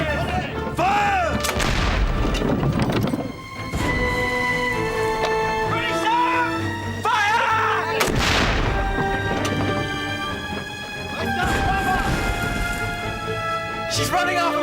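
Ship's cannons firing a broadside in a period naval battle, with repeated heavy booms rolling one after another amid ringing, whistling effects and shouted voices, all loud and close.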